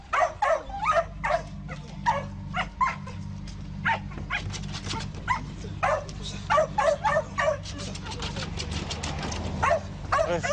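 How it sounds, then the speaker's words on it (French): An overexcited customs detection dog barks and yips in rapid bursts at a car trunk at a Franco-Belgian border checkpoint, close by over a low engine hum, with people talking in between. "Pour le maître chien, c'est clair. L'animal est surexcité."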